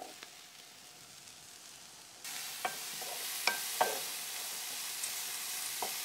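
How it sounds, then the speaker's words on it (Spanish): Mushrooms and vegetables sautéing in a pan on a home stove, a steady soft sizzle that grows louder midway, with a few light clicks of stirring utensils and no talk. "Y ahora voy a poner los champiñones."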